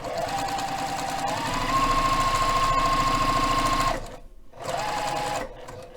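Sewing machine running a straight stitch on a beginner's confetti star quilt, with a fast steady whirring chatter and a rising motor whine, then a brief stop before it resumes and stops again.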